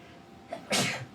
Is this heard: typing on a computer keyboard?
no